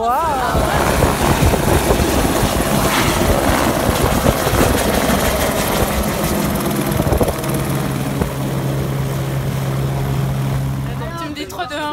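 Rescue helicopter at a ski slope, its loud rotor thump and turbine whine filling the air up close, with a steady engine drone settling in later and a voice briefly exclaiming.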